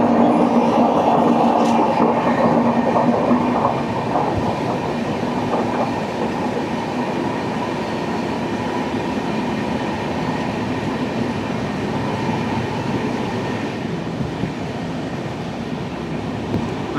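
Netravati Express passenger train running on rails through Kerala near Kadalundi, a loud continuous rumble and rattle of wheels and carriages heard from on board, steady throughout with faint clicks of rail joints.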